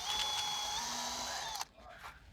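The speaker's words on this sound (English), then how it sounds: "I'm going to mark where that end is and pre-drill some holes" A power drill whines at high speed while pre-drilling holes in plywood inside a carpenter's van, a single steady burst that cuts off sharply after about a second and a half, leaving faint handling noise.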